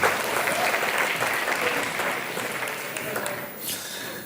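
Audience applause at an award ceremony, a steady dense clapping from a sizeable crowd that stays loud and sustained throughout, thinning slightly near the end.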